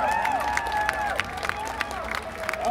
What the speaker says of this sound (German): Bitte einen großen Applaus für unsere Dance Girls.